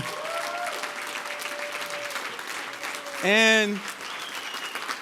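An audience at a live talk event applauds for JC, a dense round of clapping that fills the room throughout, with a voice speaking over it and a brief musical tone partway through.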